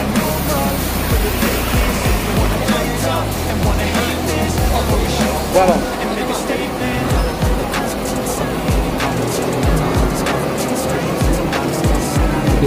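JRG bus on the road toward Medan, heard from aboard another bus in Indonesia: a steady, loud rushing roar of engine and road noise, with wind and tyre hiss throughout, no clear talk.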